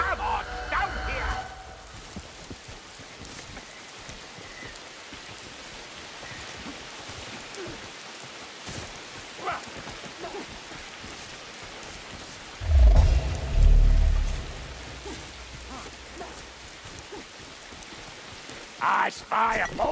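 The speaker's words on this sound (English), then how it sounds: "Day starts with rain," Rain falls steadily on surfaces in a grim outdoor level of the game Warhammer Vermintide 2, a soft continuous patter under scattered sharp impacts, low rumbling thuds and brief bursts of louder activity.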